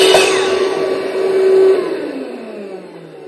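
A vacuum clamp in a woodworking shop runs as a steady loud whine with a mechanical drone, then a falling tone as it spins down, while wedges are cut for building a biplane.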